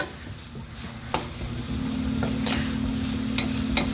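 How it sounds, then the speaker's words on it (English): Onions and minced garlic sautéing in a pan over medium-low heat for a chicken curry, a soft continuous sizzle with occasional light utensil taps, close by with no talking. "our onions are becoming nice and fragrant and soft"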